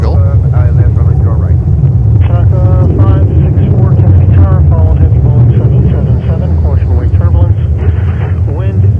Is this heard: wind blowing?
yes